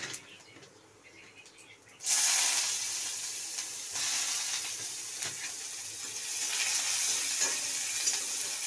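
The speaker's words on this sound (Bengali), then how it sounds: "পেঁয়াজটাকে ভেজে নিতে হবে ভালো করে" Onions hitting hot oil in a pan with panch phoron, a sudden loud sizzle that settles into a steady close frying hiss with stirring, after a quieter opening.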